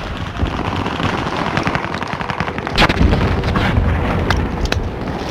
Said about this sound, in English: Nebula 5 bomb has detonated in the distance.